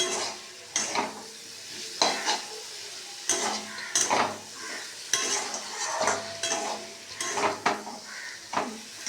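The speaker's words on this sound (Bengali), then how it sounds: "একটু ভালোভাবে কষিয়ে নিয়েছি এটা, এবার সামান্য একটু জল দেবো।" A vegetable curry with boiled elephant foot yam is stir-fried in a pan, a spatula scraping and clattering against the metal in frequent bursts over a low sizzle, near and unaccompanied by voices.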